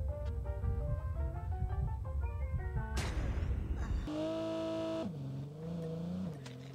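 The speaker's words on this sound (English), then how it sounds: "There's a vehicle, dude." A vehicle engine in Call of Duty Mobile revs and drones over tonal game music, with a burst of noise midway and then a sustained engine hum that shifts pitch.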